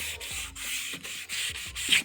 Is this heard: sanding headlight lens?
yes